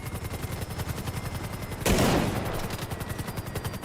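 Rapid machine-gun fire rattles on steadily in a video game. Midway, one heavier sniper shot booms out before the automatic fire continues.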